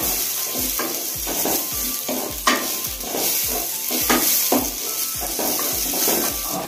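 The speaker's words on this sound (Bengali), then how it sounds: "আমি কড়াইয়ে এখন ফুলকপিটা দিয়ে দিচ্ছি" Steady, loud sizzling of cauliflower frying in ghee with onion in a pan, with repeated rhythmic scraping and stirring clatter throughout.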